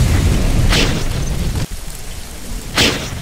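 Heavy bomb explosions from a high-speed bomber in Command and Conquer Generals on an alpine map, several deep booms rolling together with loud rumbling bursts, no talk over them.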